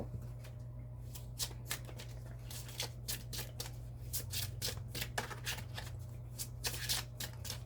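Tarot cards riffled and shuffled over and over, a quick run of crisp flutters and slaps, close by, over a low steady hum.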